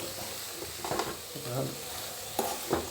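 A squid and fig cutlet mixture stirred in a pan, with soft scraping and a faint sizzle under a steady low hum and a few louder spatula strokes near the end.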